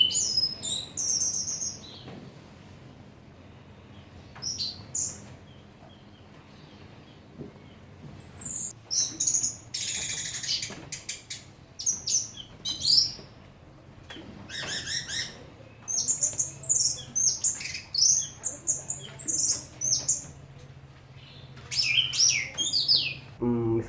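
Several orange-headed thrushes (anis merah) kept as cage birds produce a steady run of bright chirps and warbling song phrases, fairly close and loud, continuing without pause over a low background hum.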